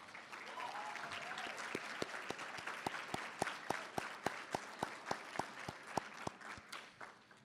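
Audience at a student awards night applauding faculty and staff, steady dense clapping that grows with sharper individual claps and then begins to fade, with no talking over it.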